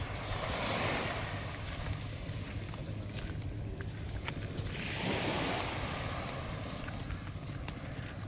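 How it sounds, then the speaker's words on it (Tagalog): Waves wash in steady, broad surges with wind noise over the microphone, a continuous roar of surf near the shore of a beach in Mauban, Quezon, as a boat is pulled out to sea. "Pag hinila na niya, lalaot na yung bangka."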